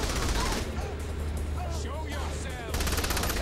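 Gunfire in the video game Saints Row: The Third comes as dense, rapid automatic bursts, loud and continuous at the start and end with a slightly quieter stretch between, while voices talk underneath.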